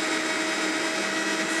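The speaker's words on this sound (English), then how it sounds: "And this gets put right into the Vitamix." A Vitamix blender whirs steadily at full speed, puréeing cooked cauliflower soup in a loud, continuous drone with no pauses.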